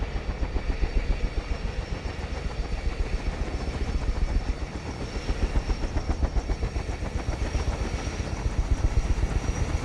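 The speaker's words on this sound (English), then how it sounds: "Why does it sound like the engine's turning off?" Helicopter engine in Microsoft Flight Simulator, a steady, loud mechanical drone with a rapid rhythmic chop that holds throughout without a clear fade.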